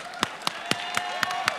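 Sparse applause from an awards-show audience at the Punjabi Film Awards, with a handful of separate claps spaced roughly evenly, fairly faint against a steady background hum.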